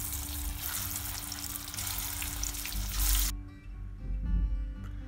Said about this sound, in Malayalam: അപ്പോൾ ബാക്കിയുള്ള ചിക്കനൊക്കെ നമുക്ക് ഇതുപോലെ ഒന്ന് ഫ്രൈ ചെയ്ത് മാറ്റി വെക്കാം